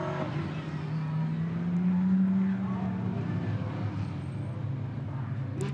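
GT race cars idling and revving on the Barcelona circuit before the race start, a rumbling engine drone that swells briefly then settles, with a voice talking over it.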